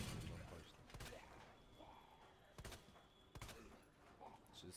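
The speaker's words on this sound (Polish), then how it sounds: "Trzy strzały." Three sharp gunshots in the video game Resident Evil 2 Remake, spaced across a few seconds over a murky ambient background, with a voice talking faintly in between.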